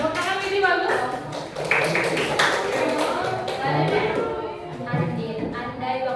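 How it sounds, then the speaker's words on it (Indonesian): A group clapping during a classroom lesson, with irregular taps and claps mixed under a voice and other talk nearby throughout. "Tepuk tangan ini bagus."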